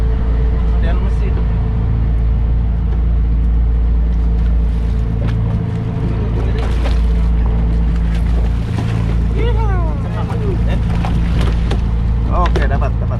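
Boat engine drones loudly and steadily throughout on a fishing trip off Ujung Kulon, with low rumble and wind and water noise, while people talk and shout over it.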